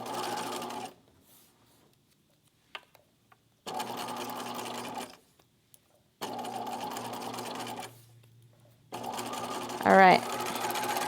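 A sewing machine stitches paper embellishments in small stitches, running in three loud bursts separated by quiet pauses, with a brief voice near the end.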